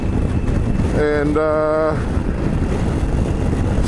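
Strong coastal wind buffets the microphone in a constant low rumble throughout, with a person briefly speaking over it near the start.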